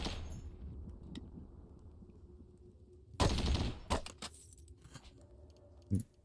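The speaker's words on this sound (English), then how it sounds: "Is that a chain gun turret?" A chain gun turret fires in the video game Caves of Qud: quiet background hum broken by a loud rapid burst of automatic fire, then a few shorter scattered bursts and a sharp final shot.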